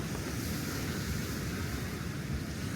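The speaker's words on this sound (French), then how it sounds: "il y a un petit vent là, c'est bien" Steady breezy rush of light wind at the beach, a constant soft roar with surf-like wash and no voices.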